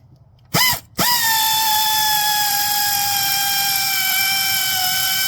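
A pneumatic tool runs during work on a high-mileage 7.3 Powerstroke truck: a short burst, a brief pause, then a loud, steady whine that holds unbroken to the end.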